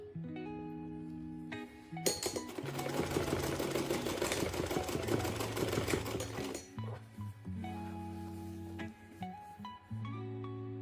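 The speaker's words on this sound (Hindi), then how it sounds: "ये पट्टी और ये स्टिचिंग जो आप ये सिलाई कर रहे हैं" Sewing machine stitching a cloth baby cap: a steady motor whir with a faint background hum, rising into a loud, continuous rapid needle chatter for several seconds and then dropping back to the quieter hum.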